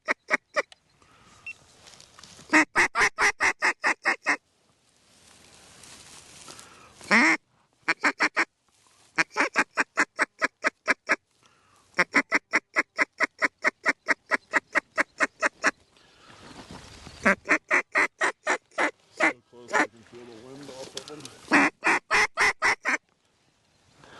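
A large flock of ducks quacks in repeated rapid bursts, loud and close, with hunters' calls and movement between the bursts and an echoing, open-air feel.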